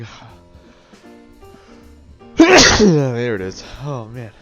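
A single loud, close sneeze bursts out after quiet talk, a sharp explosive onset trailing into a voiced, wavering exhale, and people speak briefly before it.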